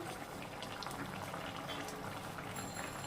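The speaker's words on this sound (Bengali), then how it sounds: "ঝোলটা অনেকটাই ফুটে গেছে।" Tilapia curry with potatoes boiling in a pot, a dense steady bubbling and gurgling, soft and continuous with no speech.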